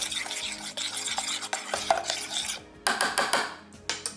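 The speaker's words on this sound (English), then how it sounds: "Give it a stir." Cauliflower puree seasoned with salt, black pepper and cream, stirred in a pot with busy scraping and clinking of a utensil against the metal, continuous at first and then in quicker separate strokes.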